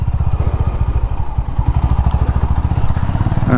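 A Honda H'ness CB350 single-cylinder motorcycle runs close by with a steady, rapid thumping exhaust beat and mechanical clatter, engine note holding even throughout with no talk.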